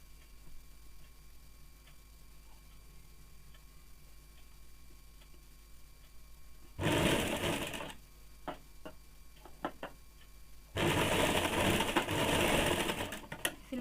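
A sewing machine stitches a woolen baby frock in two close, rapid bursts of chattering needle action, separated by quiet pauses with a few soft clicks.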